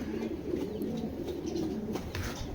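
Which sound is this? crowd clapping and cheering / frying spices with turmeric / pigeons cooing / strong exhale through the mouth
pigeons cooing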